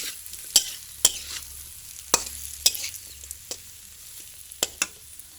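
Okra stir-fried with egg is stirred in a pan, a spatula scraping in sharp, irregular clacks about every half second over a faint sizzle, close and with no voices.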